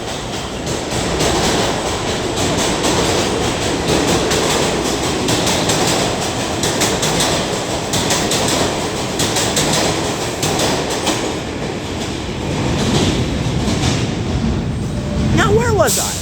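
A rain-soaked train passing close on the rails with a continuous rhythmic clickety-clack and rumble, a few faint wheel squeals near the end, while a person talks over it.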